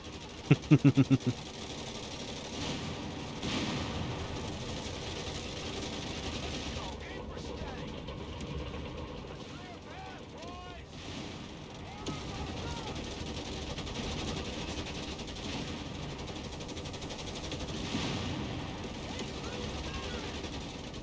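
Rapid bursts of gunfire crack out at the start of a Company of Heroes 3 Italian campaign battle, then give way to a steady rumble of engines and distant combat noise beneath a continuous game soundscape.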